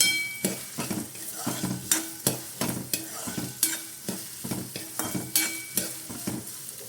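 Four thinly sliced onions frying in hot oil for fish bhurji, a continuous close sizzle punctuated by a regular rhythm of spoon strokes scraping and tapping the pan, no talking.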